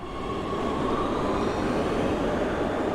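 A subway train rumbles through a station in the life-simulation game Big Ambitions, a steady dense roar with a faint high whine over it, continuous and fairly loud, with no talk.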